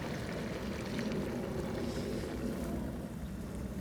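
Water is poured into a simmering pot of broth with fava beans, a steady continuous splashing gurgle held at even loudness throughout, close by with no talk.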